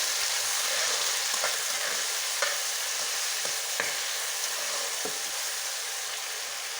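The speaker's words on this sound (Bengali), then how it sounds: "এটাকে ভালো করে একটু নেড়ে নেব।" Chopped onion, garlic and slit green chili sizzle steadily in hot oil while a spoon stirs them, its scrapes against the pan coming every second or so.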